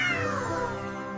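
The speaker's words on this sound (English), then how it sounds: "A cute kitten!" A kitten meows once, a single drawn-out, close and clear cry that slowly falls in pitch and fades away.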